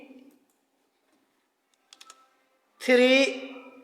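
A few quick taps on a computer keyboard during a computer practical lesson, faint and brief, followed by a voice talking.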